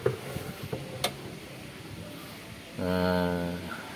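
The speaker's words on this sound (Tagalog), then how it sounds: "Pag inikot ko, dinig nyo yung ingay ng spin." Whirlpool LSP780GP 7.8 kg top-load automatic washing machine with a noisy spin: faint scattered knocks and rattles, then a steady, louder droning hum as the drum spins up partway through.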